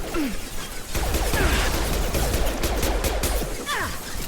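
Rapid gunfire from a sidearm in Mass Effect Legendary Edition, a dense run of shots and impacts over low rumbling combat noise, sustained and fairly loud for several seconds.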